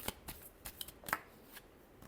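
Tarot cards riffled in a handful of quick shuffles, crisp papery bursts spaced irregularly with short pauses between, close and fairly quiet.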